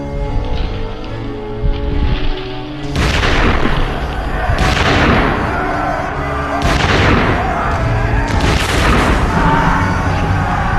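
Battle reenactment gunfire: several heavy booming blasts from cannon and massed musket volleys, spaced a few seconds apart, loud and close over a continuous rumbling din.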